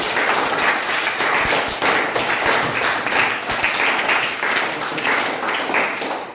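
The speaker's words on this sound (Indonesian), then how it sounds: "Oke, tepuk tangan untuk kita semuanya." A classroom of students claps together in steady, dense applause, close and even in loudness throughout, with no talking over it.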